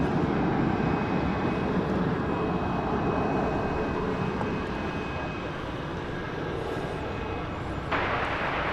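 A Boeing 737-800 jet at Dallas Fort Worth airport, a steady moderate engine rumble and whine running throughout, slightly distant and unbroken.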